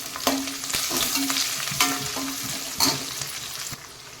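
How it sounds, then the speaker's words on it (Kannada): Curry leaves and green chillies fry in a pan with a steady close sizzle, broken by a few soft stirring scrapes and light knocks. "ಈಗ ಇದನ್ನು ಫ್ರೈ ಮಾಡ್ತೇನೆ ಸ್ವಲ್ಪ"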